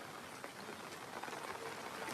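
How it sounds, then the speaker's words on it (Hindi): Heavy monsoon rain falls at the Mahabaleshwar hill station in thick fog, a faint, continuous hiss of drops with scattered patters and no voices. "और बारिश बहुत सारा चालू हो गया है,"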